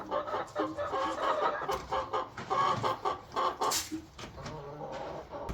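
Several meat chickens cluck and chatter continuously nearby in a barn, a busy overlapping run of short clucks with no one speaking.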